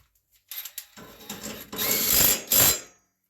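On a Husqvarna riding lawn mower blade, a bolt is fitted and tightened with a short ratcheting, whirring burst from a power tool after a few metallic clinks, loud and close, lasting a couple of seconds.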